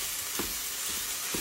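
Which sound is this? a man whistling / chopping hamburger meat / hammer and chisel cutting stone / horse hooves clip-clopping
chopping hamburger meat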